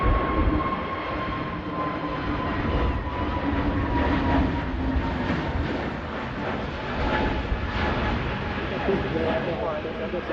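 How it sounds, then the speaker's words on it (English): An EasyJet jet departing Manchester Airport for Amsterdam gives a broad, steady roar at a distance that swells and eases slightly over ten seconds, with no clear talk. "EasyJet heading out to Amsterdam."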